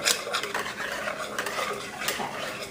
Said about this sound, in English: See how it sizzles.